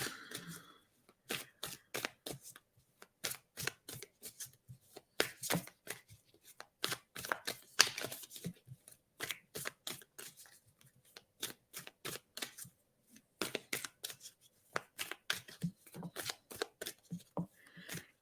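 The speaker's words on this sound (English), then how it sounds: "Okay, Vicky, as I'm sitting here shuffling, my eyes are watching what I'm doing" Tarot cards shuffled by hand in repeated quick riffling bursts with short pauses between, close and crisp, with no talking over them.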